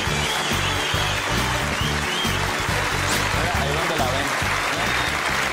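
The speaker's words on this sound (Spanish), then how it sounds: "Un aplauso para sí, Alexita." Steady applause from an audience, a dense wash of clapping that holds at an even level throughout.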